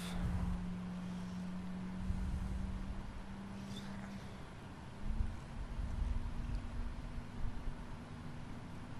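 A Boeing 777 jet engine in a flight simulator game runs on after its start, a steady low hum and broad whooshing roar that holds evenly throughout with no talking.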